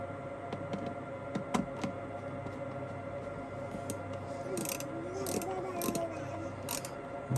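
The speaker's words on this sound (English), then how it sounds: "we're going to be putting on the rubber washers and the nuts and just securing down these side vents" Nuts with rubber washers being tightened down to secure the side vents of a home bitcoin-mining setup, giving soft ratcheting clicks and light metallic taps over a steady machine hum, close by.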